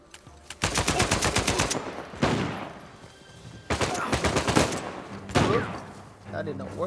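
Automatic gunfire in the video game Uncharted 4, rapid repeated bursts of shots in several volleys with brief gaps between them, loud and close, with a voice speaking between bursts.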